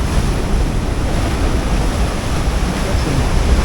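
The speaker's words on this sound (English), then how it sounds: "Got some mid-sized ones coming in." Rough surf breaks steadily on a rugged, rocky stretch of Pacific beach along the Juan de Fuca coast of Vancouver Island, a loud, continuous roar of mid-sized waves mixed with wind buffeting the microphone.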